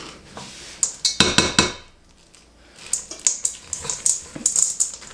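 Chocolate chips dropping into slutty brownie dough in a mixing bowl, a cluster of bright clinks and clatters near the start, then a second run of lighter scraping and tapping against the bowl.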